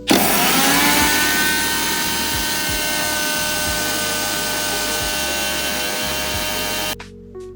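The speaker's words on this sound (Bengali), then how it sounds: "প্রথমে পোস্তটাকে একটুখানি গ্রাইন্ড করে নেবো" A grinder runs loud and steady as it grinds poppy seeds for a baked catla fish dish, with a whirring motor and rattling seeds, then cuts off abruptly near the end.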